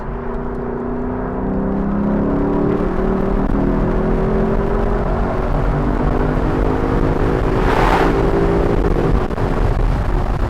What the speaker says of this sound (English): The exhaust changes, gets a little deeper.